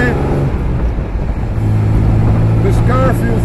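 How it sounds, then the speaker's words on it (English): An Austin Healey 3000 Mk III classic sports car engine rumbles steadily at close range, a low continuous drone with a voice briefly speaking over it near the end. "The engine sounds magnificent."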